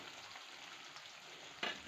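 Onion frying in a pan of oil for Andhra-style gongura pickle, a steady, fairly faint broadband sizzle running throughout, with a brief louder stir or scrape near the end.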